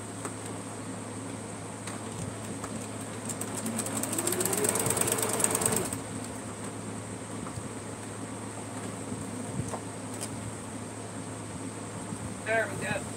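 A sewing machine stitches down a fan quilt seam in a short rattling, whirring burst of a couple of seconds, heard at moderate distance over a quiet room hum.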